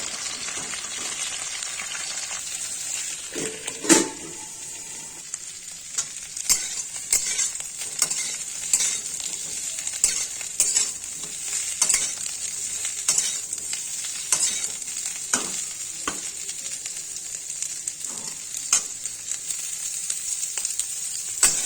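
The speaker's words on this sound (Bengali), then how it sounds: "আমার ফুলকপি ভাজা হয়ে গেছে।" Steady loud sizzling of cauliflower frying in hot oil, with occasional scrapes and clinks of stirring throughout.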